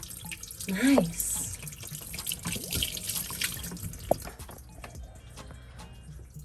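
Dirty water drains and trickles from a boat engine being winterized, a splashy stream with drips, loudest early on and easing off, while people talk briefly nearby.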